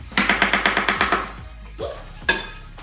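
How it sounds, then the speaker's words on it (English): Knife slicing carrots on a cutting board: about eight quick, evenly spaced chops, close and crisp, followed by a few scattered knocks and clatters. No talking. "So this is me slicing up carrots."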